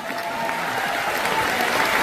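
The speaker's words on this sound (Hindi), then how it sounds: "इसी बात पर तालियां बजा दीजिए आप सभी लोग।" Audience applause at a business seminar in New Delhi, a steady, dense clapping from a large crowd that holds at an even loudness for the full two seconds with no talk over it.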